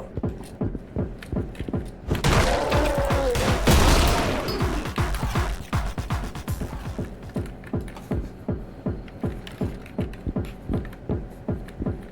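A newly found gun fires in rapid, rhythmic bursts during a back-alley fight in the Anger Foot video game, with a dense loud flurry of shots early on, then a steady pulsing beat of gunfire to the end.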